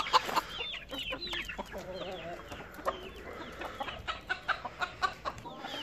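Chickens cluck and squawk close by in a backyard coop, with a rooster among them; a run of short rhythmic clucks toward the end and a soft voice underneath.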